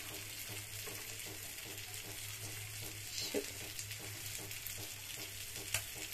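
Fish sizzles steadily in hot cooking oil, with a continuous even crackle and a few slightly louder pops, no voices over it.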